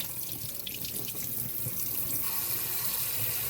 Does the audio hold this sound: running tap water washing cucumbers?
yes